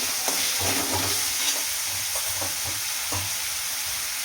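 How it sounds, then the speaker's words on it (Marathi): Onion frying in hot oil with turmeric in a kadhai, a steady close sizzle broken by soft stirring scrapes at irregular intervals, with no voices. "आणि कांदा आहे आपण आपल्याला एकदम छान भाजून घ्यायचा."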